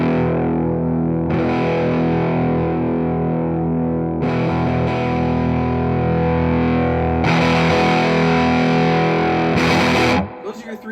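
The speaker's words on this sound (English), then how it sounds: "Turn it up, you get more distortion." A heavily distorted electric guitar played through a Sibriex distortion pedal plays sustained chords in several sections, gritty and loud, then cuts off abruptly at the end.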